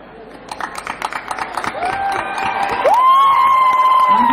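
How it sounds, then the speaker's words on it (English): Audience at a concert clapping and cheering, irregular claps building into a sustained crowd roar with whistles, fairly loud and close. "Maybe we can applaud, give an applause to them."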